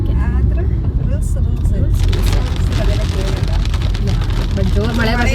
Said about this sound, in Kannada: ಬಟ್ ಜೋರು ಮಳೆ ಬರ್ತಿದೆ, ಸಖತ್ ಜೋರು ಮಳೆ.